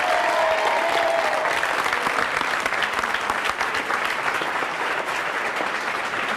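Television studio audience applauding loudly and continuously, a thick sustained clatter of many hands with a brief whistle or cheer near the start.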